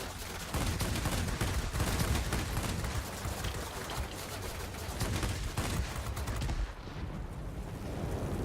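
Aircraft machine guns fire in World of Warplanes, from a Tier VII Japanese Nakajima Ki-84 Hayate fighter. Loud, dense bursts of rapid gunfire run almost continuously, then break off briefly before resuming, and no one talks.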